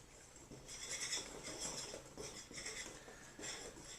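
A utensil scrapes and clinks against a bowl while chickpea flour, salt, pepper, seasonings and nutritional yeast are stirred together, giving quiet, repeated bursts of stirring with a short pause between them.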